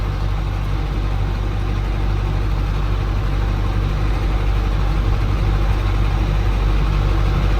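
A GAZ 3309 truck engine drones steadily while driving, a loud, continuous low rumble heard from inside the cab with no breaks or talk.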